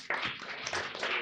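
An audience claps for Christoph at a crypto meetup in Sofia. The applause is a dense, steady patter that starts abruptly and fills the short clip with no talk over it.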